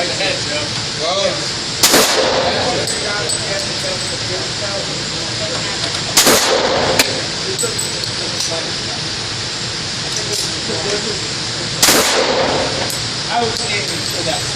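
A Glock G21 .45 ACP pistol is fired outdoors: three loud, sharp shots spaced several seconds apart, with people talking in between.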